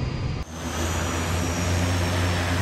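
Steady airliner cabin drone in cruise at 37,000 feet and 400 miles an hour, a constant loud broadband engine roar with a low hum, close and unbroken.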